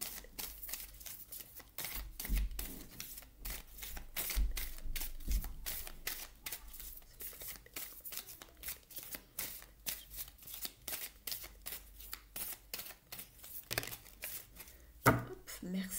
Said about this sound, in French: Je remélange le jeu.